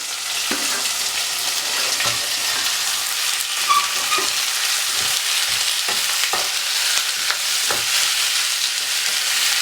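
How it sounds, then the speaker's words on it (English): Beef tossed into a hot wok with ginger and onion, stir-fried in a steady loud sizzle with scraping spatula strokes at irregular intervals, with no talking. "When you smell the fragrance of all these ingredients, and put the beef in"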